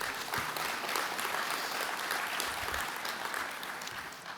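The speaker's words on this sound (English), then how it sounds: "Big round of applause to Fortinet." Applause from a conference audience, a steady wash of clapping that holds for a few seconds and gently fades, somewhat distant and soft.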